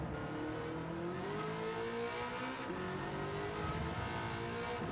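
A 2009 Corvette ZR1 C6 from Gran Turismo 7 drones on at steady high revs on Sardegna Road A, its engine pitch climbing and shifting through gears with a faint tire squeal, loud and constant with no talking.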